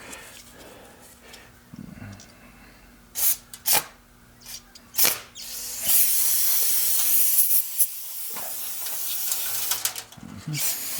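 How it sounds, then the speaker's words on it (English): Close bursts of aerosol brake cleaner hiss out in several short blasts, then a longer sustained spray over the rear drum brakes of a 2011 Ford Fiesta, among light metallic clicks and handling noises. "I'm going to spray the whole thing down with just some brake cleaner"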